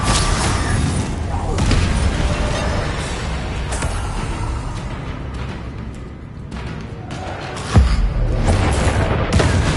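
Heavy magical blasts from Confringo spells in Hogwarts Legacy boom through a dense, rumbling battle din, with one sharp loud detonation standing out near the end.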